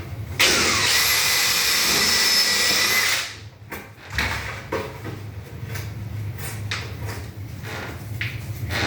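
A power drill driving into wood for a bench whines loudly for a few seconds and then stops, followed by scraping and handling noises of wood and tools close by.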